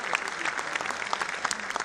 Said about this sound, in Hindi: पुनः तालियों के हर्षनाद के साथ आभार